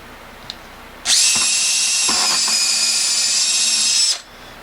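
Makita router with a 5/8 inch bit cutting eastern white pine, a loud high-pitched whine that starts abruptly, holds steady for about three seconds with cutting noise, then winds down.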